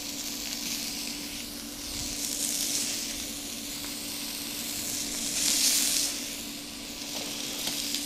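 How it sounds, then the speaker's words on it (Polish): Pear and cucumber frying together in a pan, a soft continuous sizzle and hiss with two louder swells of spitting steam, steady and close, no talking. "Smażymy wszystko razem."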